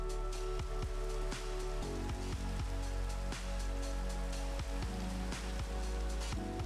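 Minecraft rain patters steadily in the background, a soft continuous hiss with scattered droplet ticks and a few sharp clicks, faint and without voices.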